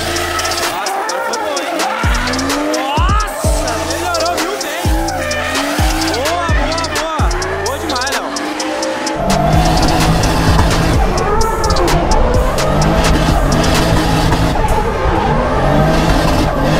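A drift car at a drifting championship practice session skids through slides with loud, repeated tire squeals and engine revving, close and sustained, while a crowd and voices carry on underneath.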